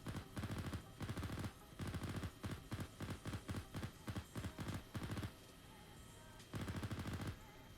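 Bursts of automatic gunfire in the military simulation game Arma III, rapid volleys repeating in clusters with brief pauses between them, fairly loud and close.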